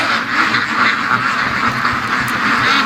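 A group of ducks quacking loudly and close by in a continuous, overlapping chorus of nasal calls, with no voices.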